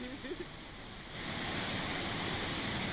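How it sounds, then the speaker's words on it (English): A flooding mountain river in Sikkim roars as a dense, steady rush of water that swells louder partway through and then holds. "Look at the speed of the flooding river."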